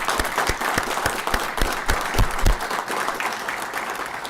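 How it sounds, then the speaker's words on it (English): An audience applauds absent Vietnam veterans at a pinning ceremony, with steady, dense clapping from a crowd that holds throughout and no one speaking over it. "So can we give them all in absentia a round of applause?"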